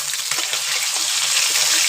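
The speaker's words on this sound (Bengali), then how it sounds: "প্রচন্ড ফাটফাট করে ফাটছে মাছটা" Fish fries in hot oil with a dense, loud sizzle and sharp spattering pops that crackle steadily and close by.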